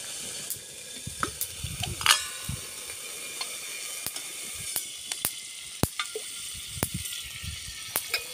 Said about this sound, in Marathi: आता आपण ह्याच्यात तेल टाकूया.